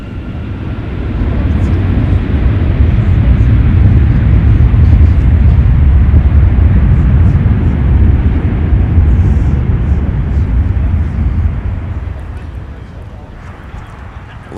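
Airliner engines at MSP airport, one running smoky, build into a loud, deep rumbling roar that swells after the first second, holds strong, then fades toward the end, with talk now and then.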